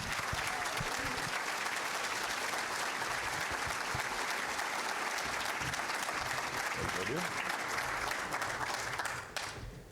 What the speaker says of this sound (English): would you give her, please, a big round of applause?